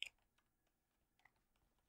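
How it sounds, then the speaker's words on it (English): A few soft, sparse clicks of typing on a computer keyboard during gameplay, quiet and close, with no voice over them. "Typing it."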